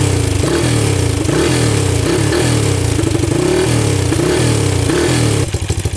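A 1980 Honda dirt bike engine revving hard in repeated bursts, loud and close, then dropping back to a choppy, popping idle at the end.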